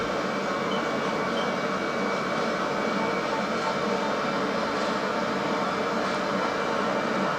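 Steady, dense roar of a Boeing 737-800 on its takeoff run in a flight simulator game, a continuous broadband engine and airflow noise holding level throughout with no talk over it.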